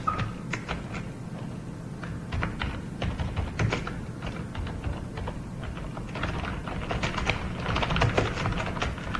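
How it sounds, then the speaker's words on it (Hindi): Typing on a computer keyboard during an office automation lesson, steady irregular clicks of keys continuing throughout over a low room hum, with no talk. "ये इसमें मैं ज़रा इसी तरह की टाइपिंग कर रहा हूँ"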